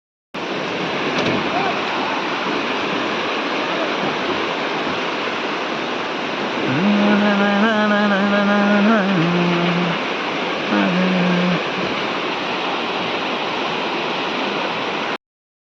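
A river flows with a loud, continuous rushing roar of water close by, and a voice briefly rises over it partway through.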